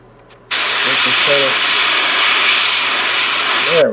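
Airbrush spraying thin paint onto a Dropzone Commander miniature: one long, steady, close hiss of about three seconds, with a faint voice briefly underneath.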